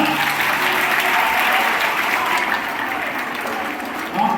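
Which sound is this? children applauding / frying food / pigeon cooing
children applauding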